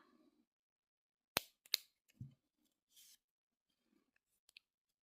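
Scissors snip thread while a small stuffed fabric fish is being sewn, two sharp close snips followed by a few faint handling clicks in an otherwise quiet room.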